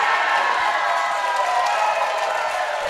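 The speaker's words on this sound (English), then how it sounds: "And the crowd from San Diego goes wild there, folks, as Melanie Roach pockets the 9 on the snap." Crowd at a San Diego team pool championship final cheering and applauding, a dense, steady wash of clapping and whoops that holds loud and close for the whole three seconds.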